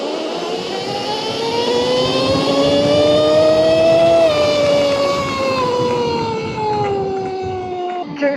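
A Fly E-Bikes electric street bike speeds along a straightaway, its motor giving a steady rising whine that climbs in pitch, peaks, then eases off, with wind noise around it.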